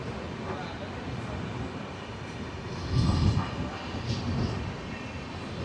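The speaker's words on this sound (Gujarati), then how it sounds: "આપ જોઈ શકો છો મારી પાછળ જે પ્રકારે રેલવે જઈ રહી" A train rolls past behind a person at a small railway station in Gujarat, India, a steady broadband rumble that swells briefly midway, with a voice talking over it.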